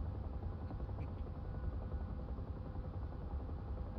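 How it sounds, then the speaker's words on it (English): A Huey helicopter engine in DCS World hums in a constant low, throbbing drone, steady and unbroken, with no talking. "Huey does sound nice on the stream"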